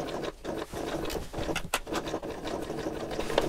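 A sewing machine zigzag-stitches an appliqué, close and continuous mechanical whirring with uneven rubbing and fabric movement throughout the short stretch.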